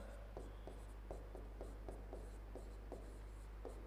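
Chalk or marker strokes on a board during a maths lesson, a regular series of short scratchy writing sounds over a constant low hum, with no talk.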